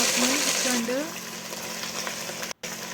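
Cumin seeds frying in hot oil inside a pressure cooker give off a steady close sizzle, with a brief stirring scrape and a short dropout near the end.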